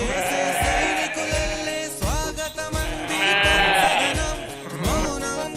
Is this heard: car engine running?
no